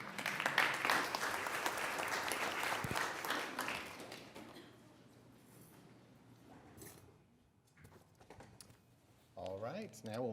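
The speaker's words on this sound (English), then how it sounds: "Can stand up and give you a quick little applause" An audience at a city council meeting applauds, a dense burst of many hands clapping for about four seconds that fades into quiet room noise, with a voice speaking near the end.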